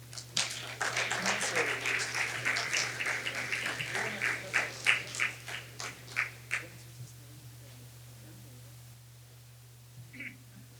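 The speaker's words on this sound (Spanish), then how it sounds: "Un fuerte aplauso, por favor." A lecture audience applauds a guest speaker before a talk on partial differential equations, with dense clapping that thins to scattered claps and fades out midway, leaving a quiet room with a steady hum.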